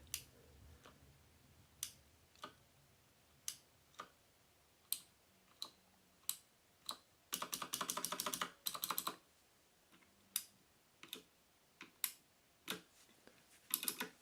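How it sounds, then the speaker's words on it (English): Key switches on an EasySMX mechanical gaming keyboard click one at a time in slow, separate presses, then a quick rattling flurry of typing, all crisp, close and quiet. "that's all the noises that you can hear from the mechanical switches of this EasySMX Mechanical Gaming Keyboard"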